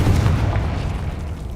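Confringo fire spell explosion in Hogwarts Legacy, a loud, deep, rumbling boom that fills the moment and slowly fades away without distinct repeats.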